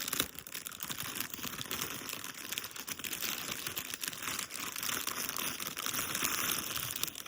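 Heated gloves are pulled from a sealed bag of thick plastic, giving continuous close crinkling and crackling with small sharp rustles throughout and no talking.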